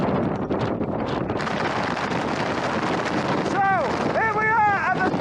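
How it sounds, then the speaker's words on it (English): Strong wind roars across an exposed fell top in the Western Fells, a loud continuous buffeting rush against the microphone, with someone speaking over it. "Just dropping out of the wind, it's been absolutely horrific. Blowing us over at the top."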